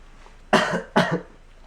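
Two sharp coughs close together, near and fairly loud, with quiet before and after.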